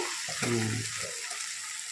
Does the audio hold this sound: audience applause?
no